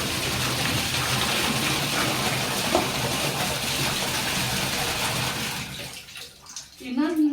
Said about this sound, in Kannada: ಅದಕ್ಕೆ ನೀರನ್ನು ತೆಗೆದು ತುಂಬಿಸ್ಬೇಕು ನಾನೇ ಫಸ್ಟು.